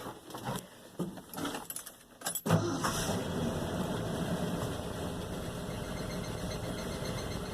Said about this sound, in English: think that's exhaust or something we hear squealing there.